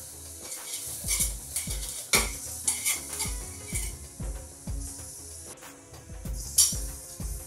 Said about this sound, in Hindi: मसालों को अच्छे से हम भून लेंगे।